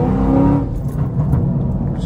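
Chevrolet Camaro SS V8 with a Corsa cat-back exhaust and high-flow cats, revving loud and close, its deep rumble shifting pitch partway through a short burst.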